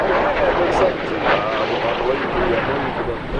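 A MiG-17F jet flies at an air show, heard as a steady, loud, distant roar over a spread-out outdoor background while someone talks over it.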